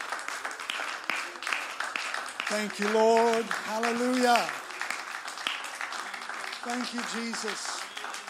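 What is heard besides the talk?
church congregation hand clapping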